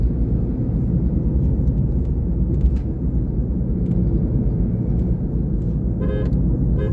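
A car driving along a mountain road, with a loud, steady engine and road rumble heard from inside throughout and a brief higher tone toward the end.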